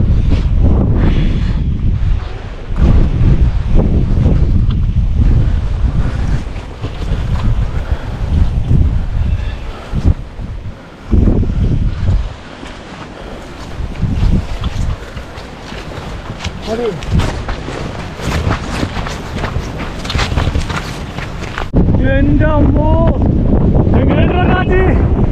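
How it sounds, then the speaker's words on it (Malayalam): Wind blows hard across the exposed hilltop at Ramakkalmedu, Idukki, rumbling into the microphone in heavy, uneven gusts that drop briefly before rising again, with people talking over it. "അതിന് മുമ്പ് തന്നെ നല്ല കാറ്റുണ്ട്."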